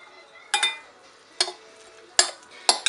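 A utensil scrapes and clinks against a bowl while tuna filling is mixed with a little light mayo, giving four distinct close, sharp strokes spaced irregularly over near silence.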